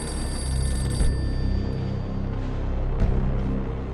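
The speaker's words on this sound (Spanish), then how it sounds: "El teléfono del castillo suena." A castle telephone rings in a wartime setting at the close of the Second World War, a steady electric bell ringing continuously over a dense, rumbling background of gunfire and battle noise.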